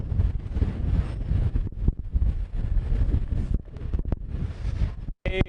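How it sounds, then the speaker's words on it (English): Strong gusting wind roars across the microphone on the South Hill in Spokane during a live morning report, a dense, constant low-end rumble with brief buffeting dips and surges and no voice. "it is extremely windy"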